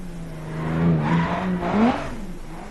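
Car drifting around a track in a racing video game, an engine note that rises and falls over a few seconds with a whining, squealing edge.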